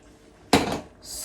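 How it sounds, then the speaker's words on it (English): Gizzard broth poured into a pot for a soup, a sudden loud splashing rush that tapers off over about half a second, followed by a softer hissing trickle. "So I'll add in some broth to have some little soup in it for the kids"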